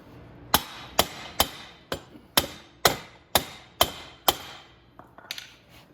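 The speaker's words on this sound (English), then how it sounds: "I can get them to start tapping on the axle" Hammer blows on the rear wheel axle of a Venom X22 125cc motorcycle, eight sharp metallic taps at a steady pace, close and loud, followed by a few softer knocks.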